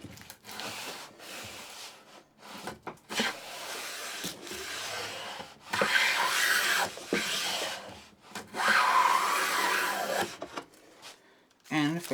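Hand plane pulling long shavings off a pine board, heard as repeated rasping wooden strokes of varying length, close and fairly loud, with brief pauses and handling knocks between passes.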